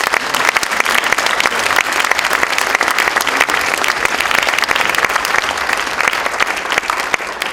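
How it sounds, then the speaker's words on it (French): An audience at the closing ceremony of a festival breaks into steady, dense applause that holds loud and even throughout, with no voices on top. "Et eux aussi, je pense que vous pouvez les applaudir."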